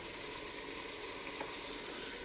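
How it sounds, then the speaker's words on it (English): Onions sizzle and fry steadily in a Ninja cooker as the base for chicken biryani: a dense, even crackle held at a constant level throughout, with no voices. "the onions are frying nicely"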